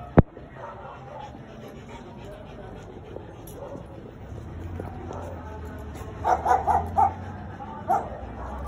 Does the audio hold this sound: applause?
no